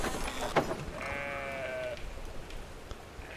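Sheep in the video game Brothers: A Tale of Two Sons let out a wavering bleat over soft ambient game sound, a moderately faint, drawn-out call lasting about a second.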